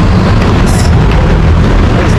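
A Manila LRT light rail train rumbles loudly and continuously, a dense, close roar with steady low-end vibration throughout the moment.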